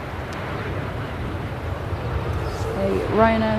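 Ryanair Boeing 737 MAX 8 arriving at Manchester Airport from Malta, a steady broad jet roar that swells slightly toward the end, with voices talking over it.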